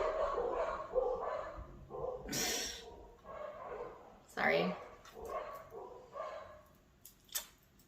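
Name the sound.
dogs barking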